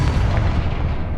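A loud, sustained blast from the Confringo fire spell in the Hogwarts Legacy video game, a broad roaring boom filling the whole moment without pause.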